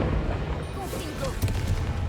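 Fiery Confringo spell blasts in Hogwarts Legacy combat, a few dull booms and thumps over a dense, steady game soundscape, with a voice talking.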